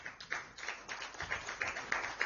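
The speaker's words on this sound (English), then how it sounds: "Please clap until she reaches here." Audience clapping in an event hall as a speaker walks to the front, a steady run of individual claps at a moderate distance, fairly quiet and thin, with no talk over it.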